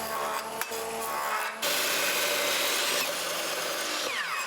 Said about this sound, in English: This is a 3/16 6-inch drill bit, which is a very big, long drill bit.